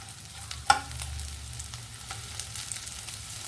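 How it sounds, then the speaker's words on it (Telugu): Bitter gourd fries in a pan with a quiet, continuous sizzle, a sharp clink of a utensil near the start and light stirring scrapes scattered through. "చాలండి, ఈ వేగడం చాలు."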